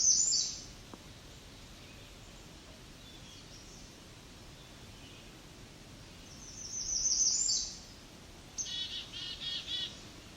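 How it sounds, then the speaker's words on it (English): An American redstart sings short, high, thin phrases, separated by gaps, against a faint rustling background. A brief phrase opens the stretch, a longer one comes mid-way, and a stuttering series of notes closes it. "So this American redstart is flying around tree to tree, singing, eating bugs."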